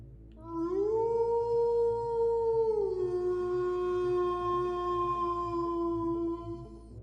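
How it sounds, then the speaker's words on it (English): A long, drawn-out wolf howl rises, holds, then drops to a lower sustained tone, with faint overtones and a steady low rumble beneath. It sounds distant, alone in the night air, and lasts several seconds. "they heard one last howl in the distance"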